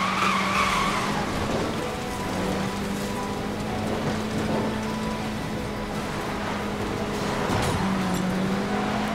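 A Tesla Roadster Sport races in Need for Speed: Most Wanted (2012), with steady road and motor noise, tire hiss and occasional skids, loud and continuous with no voices.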